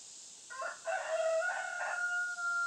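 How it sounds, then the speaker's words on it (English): A rooster crows once, a loud, drawn-out call rising and holding, heard nearby over a steady background hiss. "That's Romeo, my rooster."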